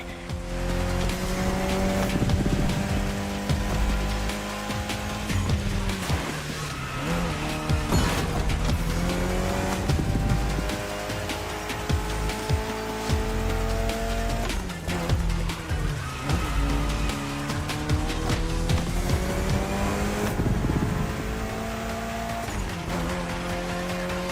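Engine of a Mitsubishi Lancer Evo X in a racing video game, revving loudly and continuously with rising and falling pitch and bursts of tire squeal, with no talk.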